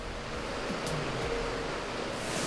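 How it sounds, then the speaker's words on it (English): Rushing water from a waterfall and rapids inside a cave in Laos, a steady broadband roar that holds even and continuous throughout with no voices. "And there's a waterfall here. We hit rapids."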